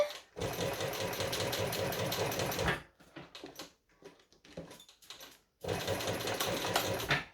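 A sewing machine stitches a very thick seam in two loud, rapid runs of needle clatter separated by a pause filled with softer handling clicks and shuffling.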